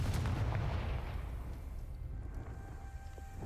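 Confringo fire spell explosion in the video game Hogwarts Legacy, a loud, deep booming blast at the start that rolls and fades into a low rumbling tail, no talking.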